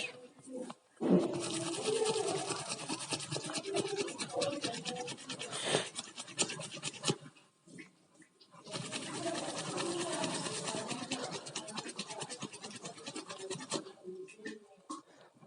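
Close, steady scrubbing of an ink stain, two long bursts of rapid rough rubbing with a brief pause between them, loud and continuous.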